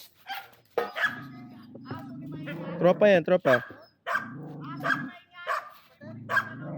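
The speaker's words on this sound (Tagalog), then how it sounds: "awayin siya ng aso" A dog barks and yips repeatedly nearby on a hike to Mt. Binacayan and Mt. Balakbak, interspersed with people talking in Filipino over it and a low steady engine hum.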